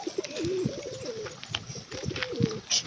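Domestic pigeons coo in a low, repeated rolling call, two clear bouts close to the microphone with a few soft chirps between them, no talking.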